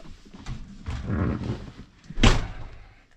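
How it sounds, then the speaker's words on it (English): Door of a Palomino HS-2902 truck camper being closed, ending in one sharp, close thud after softer shuffling and rattling, with no speech. "Let me close the door."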